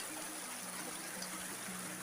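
Stream water flowing steadily at its own pace outdoors, a continuous close rushing and trickling wash with no breaks.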